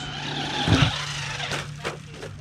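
A Traxxas Rustler 4x4 VXL RC car drives and skids outdoors, its electric motor whining steadily while the tires scrub and squeal in a few quick bursts, fairly close and loud.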